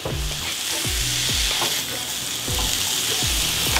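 Burger patties for a homemade Big Mac sizzle loudly on a griddle, with a spatula scraping and knocking in repeated strokes as they are flipped, all close and without talking.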